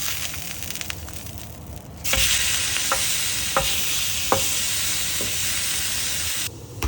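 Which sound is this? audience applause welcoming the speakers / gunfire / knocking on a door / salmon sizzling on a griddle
salmon sizzling on a griddle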